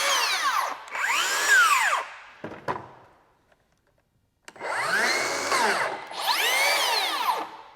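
Compact Makita XGT 40V power tool motor whining up to speed and braking to a stop twice, loud and close, with a brief clunk and a silence between the two runs.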